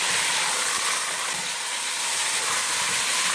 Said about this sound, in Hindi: अब इसमें मटन शामिल करेंगे। मटन मैंने 1 kg लिया है। पेस्ट के साथ फ्राई करेंगे,